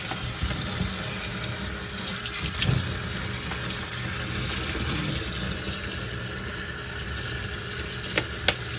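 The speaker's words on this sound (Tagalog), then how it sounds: "Ugasan natin tong talong at saka pitsay." Eggplant and pechay washed under a running kitchen tap, a steady, continuous splashing stream throughout with a few faint knocks and clinks.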